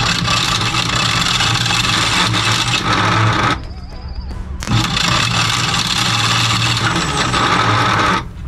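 A starter motor cranks a dummy engine block with a dummy crankshaft bolted to an old VW bus gearbox, giving a loud, continuous grinding whir that pauses briefly after about three and a half seconds, then resumes until the end.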